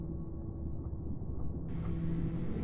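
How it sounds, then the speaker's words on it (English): Low, steady hum from ray receivers in the Dyson Sphere Program game, a soft continuous drone with faint tonal lines that thickens slightly partway through. "that's the hum of the energy coming in from the Dyson Sphere"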